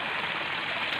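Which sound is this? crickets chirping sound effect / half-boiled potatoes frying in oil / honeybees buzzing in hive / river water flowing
river water flowing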